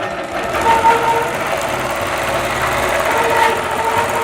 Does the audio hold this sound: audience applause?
no